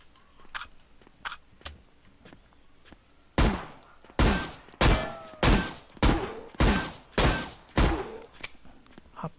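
Gunfire in a zombie video game: a few scattered light shots, then a rapid series of about nine loud, heavy booming blasts at a steady rhythm, up front in the mix.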